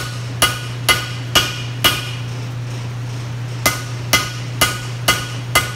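A hammer strikes hot steel on an anvil while forging a skinner knife blade: four sharp ringing blows in a steady rhythm, a short pause, then five more, loud and close over a low steady hum.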